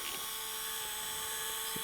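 A small hand drill whirs in a steady, high-pitched whine, fairly faint, running continuously without pause, drilling into a model glider wing for an aileron servo installation.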